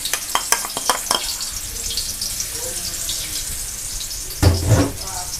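Chili paste with pork stir-fried in used frying oil in a pan, with quick scraping stirs at the start, then a soft steady sizzle and a brief louder clatter near the end.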